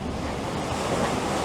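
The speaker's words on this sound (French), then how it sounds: "Petit saut de vague." A Vendée Globe racing sailboat at about 30 knots hops over a small wave at sea, with loud rushing water and strong wind buffeting the microphone in one continuous surge.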